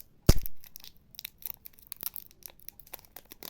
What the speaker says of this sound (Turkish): Şimdi bu şeyi açacağım. Üzerindeki poşeti.